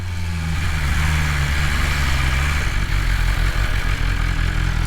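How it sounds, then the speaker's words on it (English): A motorcycle engine runs under full throttle yet hits a flat spot. It makes a loud, steady, rough drone with low clattering pulses and no talk. "even though you're giving her full beans with the throttle tube, the engine ain't giving you full beans"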